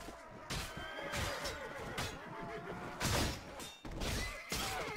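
Horse whinnies and neighs ring out amid crashing, thudding battle clashes in the medieval combat game Mount & Blade: Warband, loud and close in repeated bursts.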